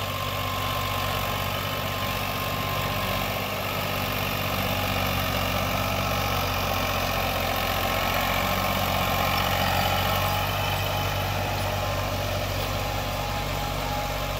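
A tractor with a Chamkaur Sahib rotavator attached idles in a farm field, a steady, low engine drone holding an even pitch throughout, close by and uninterrupted by talk.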